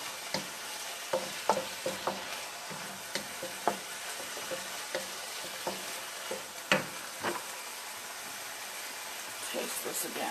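A spring roll sizzles and crackles in hot oil with a steady hiss, punctuated by irregular pops and the clatter of stirring.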